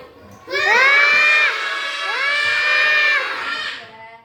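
Children shout together loudly in two long sustained bursts, with a short dip between them, in the middle of a told children's story about a boy who keeps yelling.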